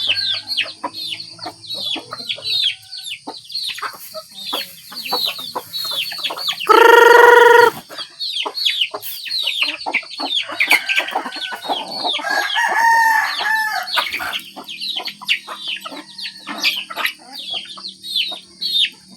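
Chickens cluck and chatter in a busy yard in the morning while roosters crow, one loud nearby crow standing out above the flock and further crowing following.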